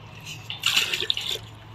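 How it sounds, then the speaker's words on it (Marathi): Water is poured into a bucket while making jeevamrut, a farm preparation, producing a brief, faint splashing gush that swells and fades within about a second over quiet background. "या पद्धतीने मी पाणी टाकलेलं आहे"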